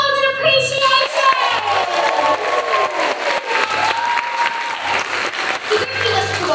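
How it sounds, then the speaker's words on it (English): Theatre audience applauding after a school production of Matilda the Musical, dense clapping and some cheering throughout while a voice speaks over it and music plays underneath. "Let's give applause for Uncle Billy and Emma!"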